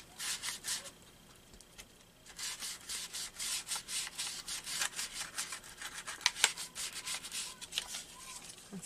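Something rubbed back and forth along a napkin-art seed packet craft project, giving repeated close, dry scraping strokes in bursts, steady and moderately quiet, with no talking.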